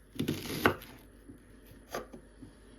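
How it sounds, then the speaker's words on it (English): Knife chopping the ends off vegetables on a board: a few sharp, close thuds, two strong early strikes and a later one, with softer taps between. "We chop off the 2 ends like this."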